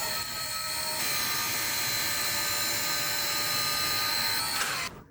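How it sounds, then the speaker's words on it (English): A small electric hydraulic pump motor on a 1/10 scale Unimog 423 model with metal cargo bed whines steadily and loud at close range with bright tonal harmonics, then cuts off abruptly near the end. "now we can clearly see the hydraulic cylinders and the entire hydraulic system's motor"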